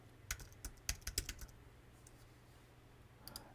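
Typing on a computer keyboard: a brief, quiet burst of rapid key clicks up close, then a pause and a couple of final taps, with no talking.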